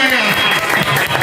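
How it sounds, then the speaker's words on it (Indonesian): Applause from an audience at an evening political discussion event, a dense, steady clapping wash that fills the whole moment at close range. "Tepuk tangan semuanya"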